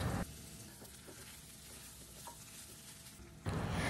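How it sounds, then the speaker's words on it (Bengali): Mutton being stir-fried in a pan for a Bengali kosha dish, giving a soft, continuous sizzle with faint stirring scrapes, louder bursts at the start and end. "মাটনটাকে তার আগে 5-7 মিনিট এভাবে ভালো করে কষে নিতে হবে।"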